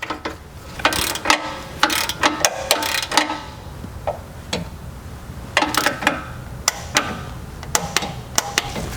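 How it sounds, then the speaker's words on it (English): A torque wrench ratchets while tightening an oil pressure sensor on a Dodge Durango 5.7 HEMI, giving loud, close clusters of sharp metallic clicks separated by short pauses. "now we're ready to grab our torque wrench"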